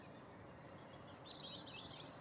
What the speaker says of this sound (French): on entend tous les oiseaux, on entend toute cette vie